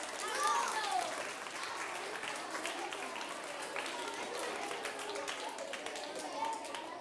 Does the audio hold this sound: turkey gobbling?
no